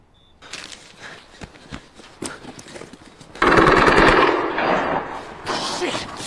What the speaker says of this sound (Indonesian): terdengar suara tembakan dari kejauhan